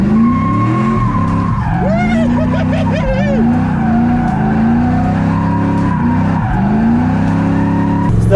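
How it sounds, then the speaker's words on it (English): An LS-swapped Ford F150 pickup spins donuts, its tires squealing in long wavering shrieks over a loud, steady engine roar, with a voice heard briefly. "It's actually very easy to do donuts in this thing."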